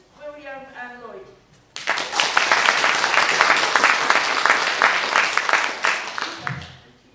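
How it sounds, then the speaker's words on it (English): A conference audience at a Learning Disability Wales annual event in North Wales bursts into loud, sustained applause after a speaker finishes, dense clapping that swells and then tapers off near the end. "Please give a big round of applause to Susan, William and Lloyd."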